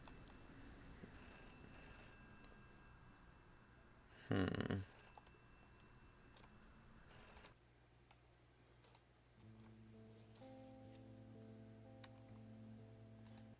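A telephone rings inside a text-based horror adventure game, heard as short bursts of bright electronic trilling with clicking between them, followed by a steady sustained tone, all quiet and without anyone talking.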